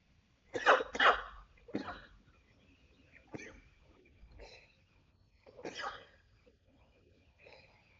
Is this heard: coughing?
yes